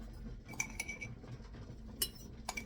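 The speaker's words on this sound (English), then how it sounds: "Each jar will get a teaspoon of salt." A metal teaspoon clinks against glass canning jars as salt goes into each one, giving several sharp, quiet chinks spaced irregularly over soft background noise.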